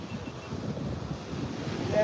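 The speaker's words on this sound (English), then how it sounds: "Unfortunately, the wind is getting really, really bad." Strong hurricane wind roars continuously with surf crashing at the Jersey Shore, a dense low rumble of gusts and waves buffeting the microphone at steady loudness, growing slightly toward the end, with no talk.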